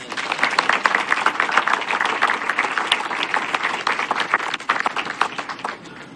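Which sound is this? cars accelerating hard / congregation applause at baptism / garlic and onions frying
congregation applause at baptism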